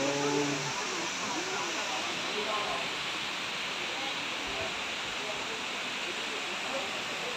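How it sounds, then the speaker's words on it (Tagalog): A hidden waterfall in South Korea near Seoul rushes with a steady, hissing roar throughout, while a few people talk quietly over it at the start. "Waterfall."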